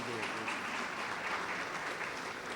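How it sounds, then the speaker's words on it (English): Audience applause at a school board meeting honoring students and teachers, a steady wash of many hands clapping throughout, loud and continuous with faint voices mixed in. "if we can give one final round of applause to all of our star student and teachers."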